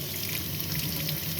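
Hot water running steadily from a caravan tap in a Swift Sprite Major 6TD, a continuous close hiss of flowing water with good pressure, heard alone without talk.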